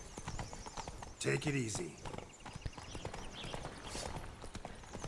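Horse hooves clip-clop at a steady walking rhythm in The Witcher 3, with a brief whinny partway through, while a person talks over the gameplay.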